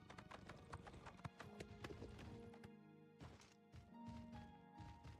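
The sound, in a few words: horse hooves clip-clopping in Oblivion video game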